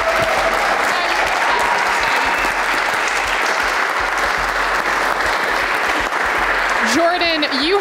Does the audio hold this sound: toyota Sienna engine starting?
no